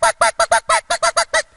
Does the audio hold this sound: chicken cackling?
yes